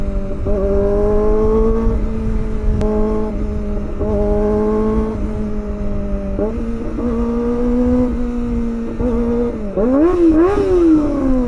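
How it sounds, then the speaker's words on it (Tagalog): A loud four-cylinder Kawasaki ZX-25R motorcycle engine idles high and revs repeatedly, its pitch climbing and dropping in a series of throttle blips, close up with no talking. "Nakakamiss rin pala yung tunog ng 4 cylinder"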